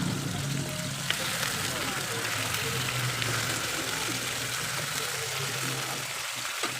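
Chicken pieces for adobong manok sizzle and fry in a hot pan, a steady, bright crackling hiss that holds evenly throughout.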